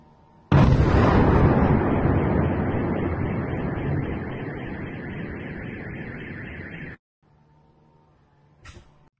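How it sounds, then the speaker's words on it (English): An explosion from a drone strike on Moscow bursts out suddenly and roars loudly in the distance for several seconds, then cuts off into quiet background noise. "we could definitely hear an explosion in the background"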